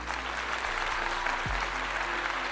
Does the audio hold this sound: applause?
yes